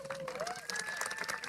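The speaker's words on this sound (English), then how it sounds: "Please stand as we applaud your dedication" A high school graduation audience applauds teachers and staff: a faint, distant, continuous wash of clapping from a large crowd, with a voice and a rising whistle-like tone audible over it.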